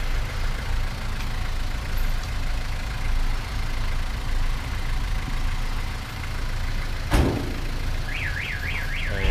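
Several vehicles idle steadily while their engines warm up, a low continuous rumble throughout, broken by a sharp click near the end and then a warbling electronic alarm tone sounding on top of the engine drone.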